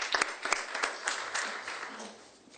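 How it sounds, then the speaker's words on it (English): Applause at a press conference for a hand transplant, a dense crowd of clapping hands rising at once and then tapering off gradually, fairly loud and with no talking over it. "give a round of applause to the big, huge team that we have here that's working to make this a success"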